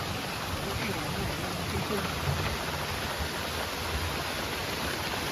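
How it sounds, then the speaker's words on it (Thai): Steady, dense patter of rain dripping through a leaking roof fills the whole stretch, a constant hiss of water falling and dripping with no pauses. "ฝนหยดลงมานะครับ"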